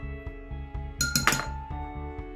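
Garlic, salt, black pepper and parmesan dressing is stirred in a bowl, the utensil clinking against the sides in a steady, quick rhythm, with a brief louder scrape midway.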